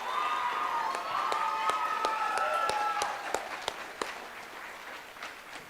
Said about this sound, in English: I want you right now to cheer for your parents, grandparents, people here to support you